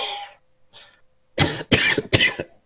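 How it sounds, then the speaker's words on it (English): Three sharp, loud coughs in quick succession, close to the mic, after a brief murmur of voice and quiet. "Actually, I had to cough."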